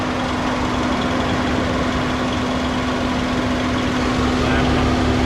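A 2012 Nissan Almera engine idles steadily at close range, a constant even hum with a low droning tone and no revving, unbroken for the whole stretch.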